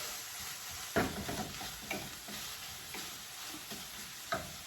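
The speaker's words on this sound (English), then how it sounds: "I minced it with my garlic press. So I'm going to put that in and let that start to cook." Fresh garlic, minced with a garlic press, starting to cook in a pan: a quiet, even sizzle with a few soft stirring taps spaced about a second apart.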